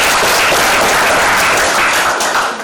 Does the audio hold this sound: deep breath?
no